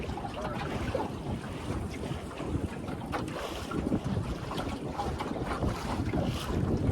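Wind buffets a Scamp sailboat on a lake, a constant rough roar across the microphone with gusty surges and faint water wash beneath, no voices.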